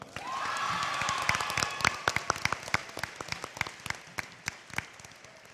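Audience applause at a 2022 Brown Deer 8th grade promotion ceremony, dense clapping with a few whoops that thins into scattered individual claps by the end.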